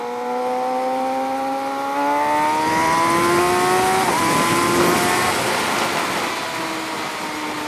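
A Kawasaki ZX6R motorcycle with an M4 GP exhaust revs on a mountain road ride, its engine note rising and falling loudly throughout, with a sharp pop or backfire crackle midway.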